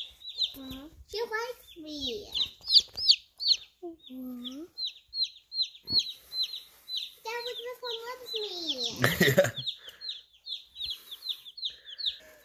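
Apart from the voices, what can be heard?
Plymouth Rock baby chick peeping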